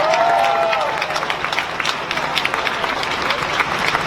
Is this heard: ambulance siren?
no